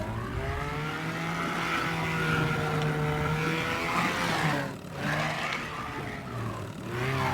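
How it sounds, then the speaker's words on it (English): Boat engine in the video game Teardown, a continuous droning motor with shifting tonal pitch that rises and wavers, briefly dipping around the middle before resuming, loud and alone without talk. "This boat sounds very odd."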